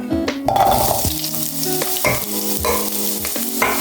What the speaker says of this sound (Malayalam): ഞാനൊന്ന് വഴണ്ട് വരുന്ന വരെ നമുക്ക് ഇളക്കി കൊടുക്കാം